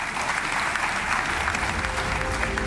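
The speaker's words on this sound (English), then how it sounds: "Can we just please clap hands for once more, please?" Loud, dense applause from a large audience at the CAF Ordinary General Assembly in Kinshasa, honoring the Prime Minister, a continuous roar of clapping filling the hall without a break.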